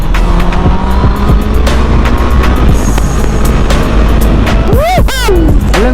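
A Honda CB650R with an inline-four engine accelerates hard, giving a loud, high-pitched screaming engine note that rises and falls through rapid revs, with excited shouting over it.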